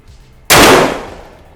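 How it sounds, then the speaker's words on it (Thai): One loud, close blast from a Khan Arms MLT 12 shotgun fired at a target on a range: a sudden sharp report followed by a short, decaying echo. "พร้อมแล้วยิงได้เลยครับ"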